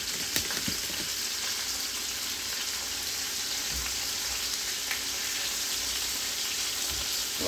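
Beef short ribs sizzle steadily in a hot pan, a continuous bright hiss of frying with a few faint pops, moderately quiet and close, with no talking.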